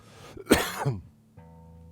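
A single sharp, loud cough up close, followed by a rough, throaty second burst, then quiet with a faint hum and a brief click at the end.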